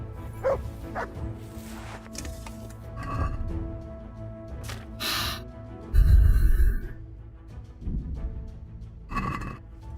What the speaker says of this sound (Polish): Pies tu robi robotę zajebistą w tej grze.